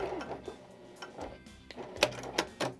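A Janome HD9 straight-stitch sewing machine stitches curves, producing quiet, close mechanical clicking and whirring in short uneven bursts, with no talking.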